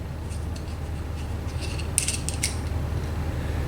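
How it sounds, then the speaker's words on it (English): A fire starter end is screwed back into a gear handle, giving faint, close creaking and ratcheting ticks over a steady low hum, with a small cluster of sharper clicks near the end. "flip it and screw it back in."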